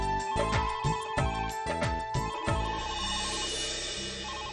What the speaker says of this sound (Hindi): अब किसका फोन आ गया?